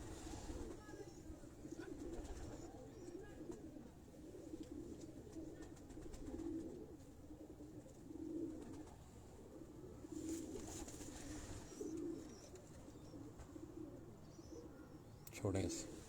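Pigeons coo softly in repeated low, throaty pulses on a rooftop in Abbottabad, with faint background noise and a few brief clatters.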